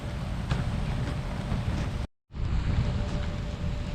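Rain falling on a farm right after fertilizer was spread, a steady dense hiss of drops that fills the whole clip, broken by one brief dropout of near silence in the middle.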